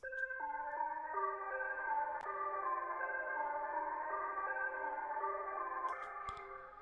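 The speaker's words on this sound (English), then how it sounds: "It's in the polysynths, and pretty simple pattern going on here." A soft polysynth melody repeats a simple stepped pattern of layered notes, steady and echoing, with no voices.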